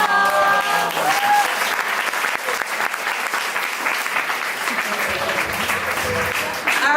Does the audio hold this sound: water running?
no